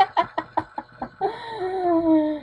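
A string of quick, sharp video-game chicken clucks on a farm level of 102 Dalmatians: Puppies to the Rescue is followed by a longer drawn-out squawk, close and clear, with no talking.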